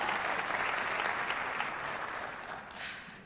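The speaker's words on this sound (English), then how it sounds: "Please give yourselves a round of applause really quick." Graduates, families and guests at a university multicultural graduation celebration clap in a dense, continuous round of applause that fades slightly toward the end.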